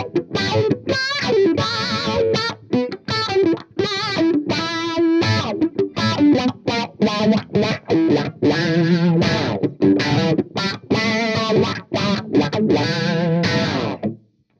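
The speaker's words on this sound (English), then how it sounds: "Here's how it sounds with the Wah engaged with the distortion set at 11 o'clock." Electric guitar through a Morley 2020 Distortion Wah pedal, distortion set at 11 o'clock, with a sweeping wah filter, playing a busy stream of notes and bends at steady loudness, close and alone.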